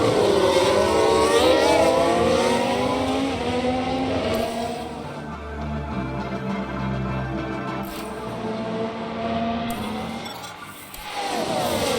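A race car in F1 Manager 22 locks up its brakes: a loud engine roar with shifting, wavering pitch, then a steady low tone and a brief skid before the engine swells again.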